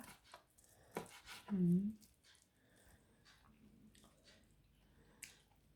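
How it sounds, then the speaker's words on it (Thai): A few faint, sparse knife chops through plant-based meat on a cutting board, quiet and separated by pauses, with a soft background hum. "เสร็จแล้วเราก็จะมาหั่น เนื้อเทียมนะคะ"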